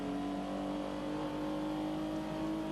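Volkswagen Vento VR6 race car with a 2.8 litre V6 engine accelerating in a 1997 one-make race, a steady loud droning engine note holding pitch throughout.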